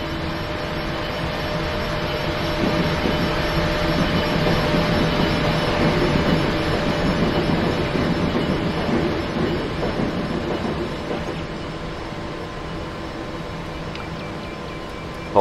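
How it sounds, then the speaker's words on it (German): A train rolls past on a German rail line near Koblenz, a long steady rumble with wheel clatter and faint metallic squeal that builds and holds before easing off, close and loud, with no talking. "Wir warten, lassen jetzt noch zwei Züge durch"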